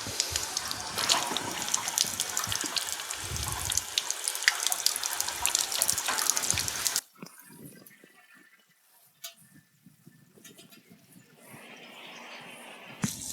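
Water from a hose runs hard through a household radiator being flushed out, a loud steady gush for about seven seconds, then dropping to a quieter trickle and splashing.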